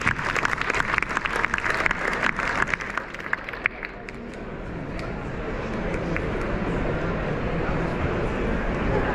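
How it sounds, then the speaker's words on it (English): Applause from an audience at a Chef of the Year award ceremony, a dense burst of clapping that is loud at first, then settles into a steadier, softer wash of clapping and crowd noise. "Big round of applause to Michael."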